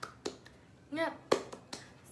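A classroom of students doing a rhythmic 'tepuk semangat' clap, sharp bursts of hand claps in a patterned beat, with a teacher's voice calling out between them.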